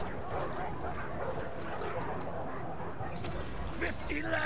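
Dogs in the game Total War: Arena give a few short yips and barks over a busy battle din, while a voice talks over them.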